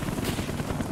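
Aircraft in flight during a Call of Duty Black Ops campaign mission, a steady, loud rotor-like roar that drones continuously through the whole second with no pause.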